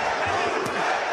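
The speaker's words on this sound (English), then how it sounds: "Butte now has the crowd going" Crowd at the Lucian Bute v Eleider Alvarez boxing fight cheering, a dense, steady roar filling a brief moment with a few dull thumps beneath.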